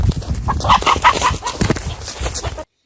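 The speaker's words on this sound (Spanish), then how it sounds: "Esto sí que es una gallina." A chicken clucks close by in a quick run of short, throaty notes, with some scratchy background noise, before the sound cuts off abruptly.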